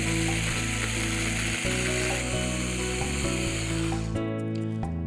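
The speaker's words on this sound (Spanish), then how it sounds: "Molemos a máxima potencia para intentar desintegrar lo más posible la vaina de vainilla." A blender chopper attachment grinding vanilla pod pieces with fructose at full power makes a loud, continuous mechanical whir. Its pitch shifts in steps as it runs, and near the end the motor note changes.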